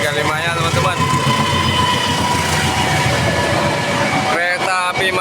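Matarmaja passenger train on the Malang–Pasar Senen route rumbling loudly past level crossing JPL 286A in Kediri, a steady close roar of wheels and cars throughout with a horn-like tonal burst near the end and a voice talking over it.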